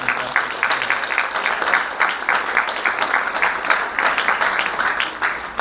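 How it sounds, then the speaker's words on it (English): An audience applauds steadily and loudly, dense clapping filling the room from beginning to end. "let's give them a round of applause"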